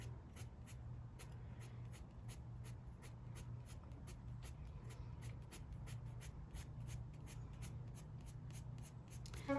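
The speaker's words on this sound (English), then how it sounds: "Cross hatching starts out the same way as hatching, with short pencil strokes that are parallel to each other" Graphite pencil cross-hatching on paper, a quiet, rapid run of short scratchy strokes close by in a steady rhythm over a low background hum.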